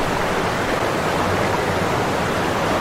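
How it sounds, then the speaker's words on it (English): Steady broadband rushing of a distant waterfall in a dark forest setting of a Slender-style horror game, constant and even throughout with no voices. "Wait, is that water I hear in the distance? Wow, a waterfall."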